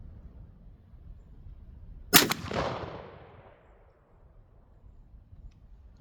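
A single sharp blast from a Winchester Super X .410 shotgun fitted with a modified choke, firing 3-pellet 000 buckshot, rings out loud and close, then trails off into a decaying echo over quiet background.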